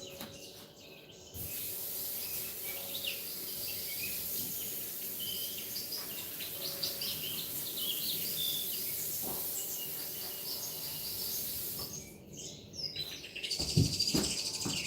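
Outdoor birdsong: scattered chirps and tweets hang over a steady broadband hiss through most of the stretch, fading briefly before a few louder knocks near the end.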